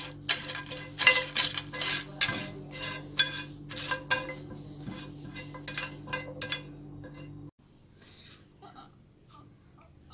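Spices dry-roasted over a slow flame in a pan while a utensil stirs and scrapes, giving rapid metallic clinks and clatter with a steady low hum beneath; the stirring stops abruptly near the end, leaving quiet.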